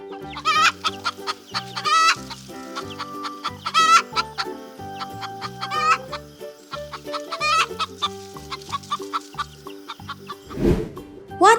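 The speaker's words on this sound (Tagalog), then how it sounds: "Hen." A hen clucks repeatedly in a busy, uneven rhythm of short clucks and a few drawn-out squawks, close and clear with no talking over it.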